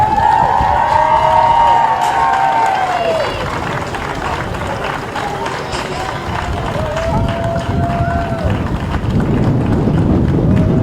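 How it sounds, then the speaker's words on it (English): Poolside crowd at a women's water polo match between the USA and Australia, steady applause and cheering that continues throughout, with a public-address announcer's voice ringing out over it. "Get a big round of applause for Team USA."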